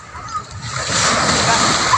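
Seawater splashes and sloshes near the shore as someone bathes and plays in the sea, with a dog wrestling in the water. The churning grows steadier and louder, and voices are heard in the background.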